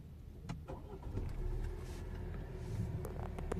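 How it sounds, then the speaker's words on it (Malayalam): An MG RX8 SUV is started with a push button, its engine catching into a low, steady rumble at idle, close and fairly quiet, with light clicks from the cabin and no voices. "നമുക്ക് ഒന്ന് സ്റ്റാർട്ട് ചെയ്ത് നോക്കാം എന്തായാലും"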